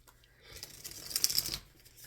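Tarot cards are shuffled in a quick papery burst of riffling and rustling that swells in the middle and fades, close and fairly quiet.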